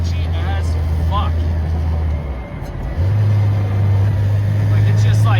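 A classic Mini Cooper heard from inside while driving, its engine a steady low drone with a brief dip in revs before picking back up, loud and close with road roar and a voice talking over it.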